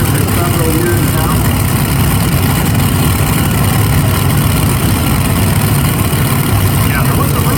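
A modified-class pulling tractor engine runs steadily at a sled pull event in Bowling Green, Ohio, a loud, continuous low rumble without clear revving, with people talking over it.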